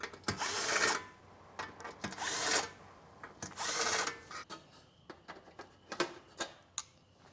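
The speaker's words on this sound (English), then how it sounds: "So I'm going to go through and deburr this so my panels pull together really nicely" A handheld deburring tool works around laser-cut holes in metal panels, giving raspy scraping bursts of about a second each, repeated several times, followed by lighter clicks and ticks of the tool and panel being handled nearby.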